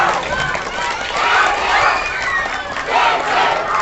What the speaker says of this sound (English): Can we support a winner with a round of applause